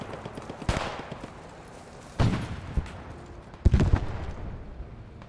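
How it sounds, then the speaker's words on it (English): Grenade blasts and combat noise in the World War II shooter Post Scriptum: three loud, booming bursts spaced a second or more apart, each trailing off into rumbling reverberation over a constant battlefield background. "I just threw a grenade at him"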